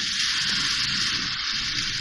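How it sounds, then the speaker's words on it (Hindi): Half a cup of water poured into frying minced meat for Karachi-style keema fry sets off a loud, continuous hiss and sizzle from close by, steady throughout with no voices. "अब मैं इसमें पानी डालूंगी"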